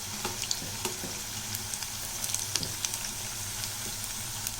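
Maida bondas frying in hot oil give off a steady, dense sizzle and crackle, with occasional sharper pops and faint stirring clicks as they are turned, heard close and without talk.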